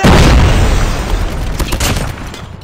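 A grenade explodes in Call of Duty Mobile during a ranked team deathmatch, a loud close boom that opens at full force and then rolls off into a long, gradually fading rumble.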